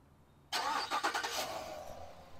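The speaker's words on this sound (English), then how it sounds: "you click it twice, and then you click the remote start button" A 2018 Chevy Silverado 1500 High Country starts by remote: after a brief quiet moment, a sudden loud crank and catch settles into a steady engine idle.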